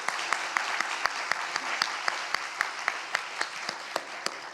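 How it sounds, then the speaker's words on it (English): Audience applause at a business conference fireside chat, a steady wash of many hands clapping with scattered sharper claps standing out, continuous and moderately near throughout. "first of all, round of applause."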